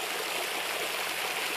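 Water pours and splashes steadily in the fountain at Lenbachplatz in Munich. It makes a close, even rushing hiss with no pauses and no voices.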